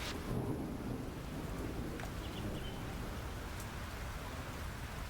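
Rain falls and thunder rumbles during a storm in the farming video game Fields of Mistria, a steady low wash of rain with a deep rolling rumble underneath, even and unbroken, with no talking.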